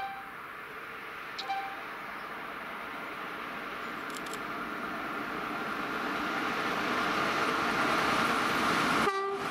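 A special passenger train hauled by a class 155 electric locomotive rumbles past with a steady rolling roar that slowly builds, with a couple of brief horn toots early on.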